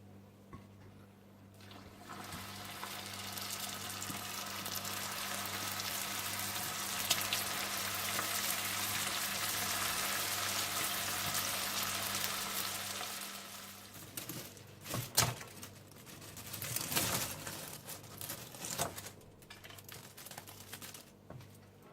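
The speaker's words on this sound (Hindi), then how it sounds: "इसी तरह से आप सारे प्रॉन बॉल्स को फ्राई कर लें" Prawn balls deep-fry in hot oil, with a loud steady sizzling hiss for about twelve seconds, then quieter bubbling broken by clatters and stirring noises, no voices.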